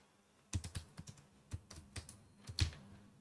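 Typing on a computer keyboard during data entry in Tally accounting software: about a dozen crisp, irregular key clicks, a few in quick pairs, quiet and close in an otherwise still room, with no talk.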